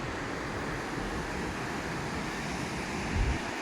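Ocean surf near Clark's Beach in Byron Bay, a steady broadband wash of waves with some wind, and a low thump near the end.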